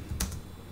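A computer keyboard clicks as a terminal command is typed, a quick pair of soft, close keystrokes against a quiet background.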